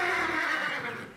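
A horse neighs loudly and close by, a single drawn-out whinny that fades at the end.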